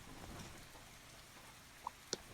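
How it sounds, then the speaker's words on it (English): Heavy rain falls outside as a soft, steady hiss of patter, faint and distant, with a couple of brief sharper drips near the end. "It's raining quite heavily outside, and the weather's only getting colder."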